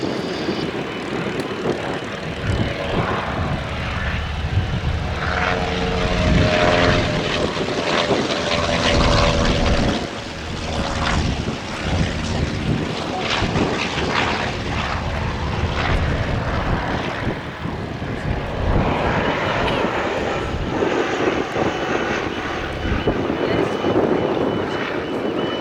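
A Sopwith Triplane's propeller engine drones steadily at a Shuttleworth summer airshow, rising and falling as it passes, with a commentator talking over it.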